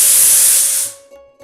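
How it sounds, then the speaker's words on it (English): A pressure cooker cooking rice lets out a loud, steady jet of hissing steam that cuts off after about a second, leaving a faint tonal ring and quiet knocks. "We are going to pressure cook this."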